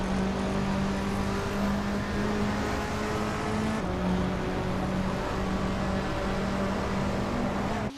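Race cars roar off the start at Long Beach in a racing video game, among them a 2018 BMW 125 iM Sport, a dense loud engine drone that stays constant without pause.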